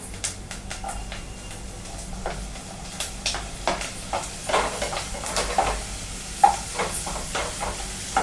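Bitter gourd and tomato sautéing in a pan for Tamil pavakkai thokku, with soft sizzling and a series of quiet stirring scrapes and clinks, growing a little busier toward the end.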